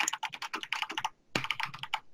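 Rapid typing on a computer keyboard, a dense run of clicky keystrokes that pauses briefly in the middle and then resumes, close and fairly loud.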